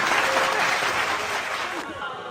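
Applause from a crowd at a community gathering with a blood donation camp, honoring the donors; steady, dense clapping that carries on loudly for a couple of seconds before easing slightly, with voices mixed in.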